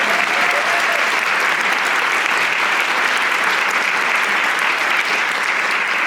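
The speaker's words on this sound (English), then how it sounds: "Give her a big round of applause." Dense, steady applause from a theatre audience at a showcase show fills the whole stretch, loud and even from start to end, with no voice over it.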